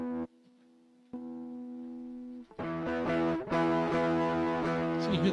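A Les Paul-style electric guitar runs through an imitation Tube Screamer overdrive pedal. A held chord gives way to louder, gritty strummed chords with a slightly driven edge, played alone with no talking.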